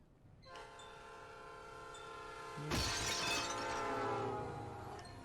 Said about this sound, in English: Train's leaving any minute.